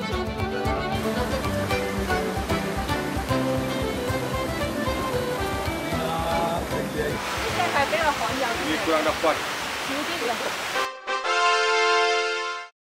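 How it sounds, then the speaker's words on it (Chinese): A waterfall and river in the Cameron Highlands rush with a loud, continuous broadband roar over music, holding steady before cutting off abruptly near the end to a brief burst of another sound. "要经过瀑布，仲要跨过3条河流"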